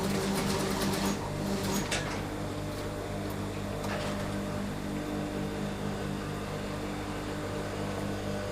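Sewing machine stitching a curtain pleat into a pinch pleat, a steady close motor hum and rapid needle rhythm running continuously throughout without any talk.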